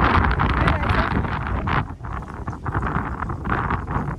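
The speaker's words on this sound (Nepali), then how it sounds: "हावा" Strong gusts of cold wind on a Hong Kong hiking trail buffet the microphone with a broad, rumbling roar that rises and falls throughout.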